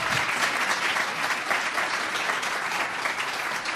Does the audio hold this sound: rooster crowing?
no